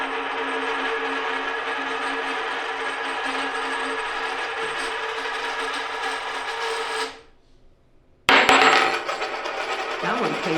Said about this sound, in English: That one pings more when you drop it on the table